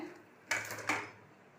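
A kadai (wok) set down on a kitchen stove while cooking keerai kadaiyal gives two quick metallic clanks about half a second apart in a quiet room.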